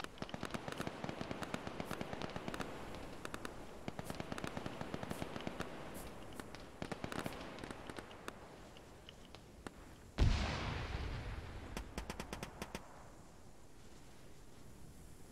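Grenades exploding near high cliffs during a large multiplayer military simulation event set on a Singapore map, heard as a dense run of sharp cracks and pops followed by one louder, nearer blast with a rumbling tail, then scattered distant bangs.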